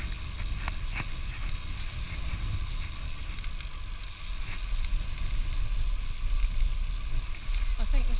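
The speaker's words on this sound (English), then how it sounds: "Windy." Wind roars steadily past while cycling through Yorkshire countryside, a loud, broad rushing buffet with occasional knocks and rattles throughout.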